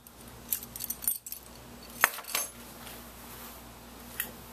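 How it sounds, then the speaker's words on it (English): Jeep keys jangle in a few short metallic bursts, bright clinks close to the microphone, with quiet pauses between shakes. "The Jeep keys."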